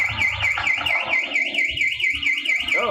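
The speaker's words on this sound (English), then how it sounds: "I didn't turn the alarm off." An electronic alarm wails continuously with a fast rising and falling siren tone, loud and steady for the whole stretch, over low rumbling and handling noise.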